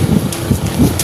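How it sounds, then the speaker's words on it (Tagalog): Strong wind buffets the microphone during an outdoor 10-kilometre jog, a loud, close, continuous rumbling roar that fills the whole second, with no talking. "Sakto lang pero malakas yung hangin."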